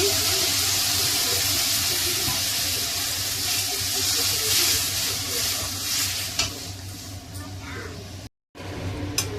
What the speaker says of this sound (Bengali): এই যে সুজিটা ভেজে নিয়েছি, বেশি লাল করলাম না, একটু সামান্য জল দিয়ে দিচ্ছি।